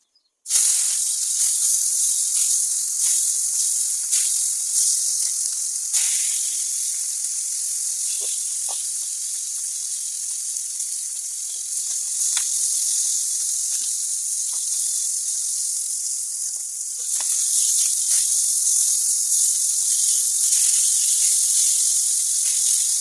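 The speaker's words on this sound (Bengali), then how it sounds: "আমি দুই ব্যাচে মাছগুলোকে আস্তে আস্তে করে লাল করে ভেজে নিচ্ছিলাম" Catla fish fries in hot oil with a loud, constant sizzle and hiss throughout, a few soft crackles and pops flickering on top.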